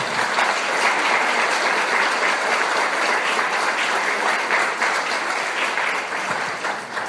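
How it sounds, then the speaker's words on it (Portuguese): Church congregation clapping, a dense, sustained burst of applause from many people filling the room, loud and even for several seconds before tapering slightly at the end. "Você pode aplaudir ao Senhor por isso?"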